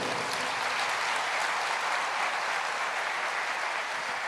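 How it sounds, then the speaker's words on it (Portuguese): A church congregation applauds the Lord during a sermon, with loud, dense clapping from many hands that stays constant and close for over four seconds. "Pode aplaudir ao Senhor."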